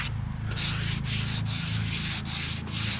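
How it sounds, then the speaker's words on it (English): A carbon fiber hood on an EK sedan is wet sanded by hand with a block and 400-grit paper, making a steady close-up rasping rub in repeated back-and-forth strokes with brief pauses between passes, under a low background hum. "hit it with a block and a wet sand. And I'm starting off with like a 400."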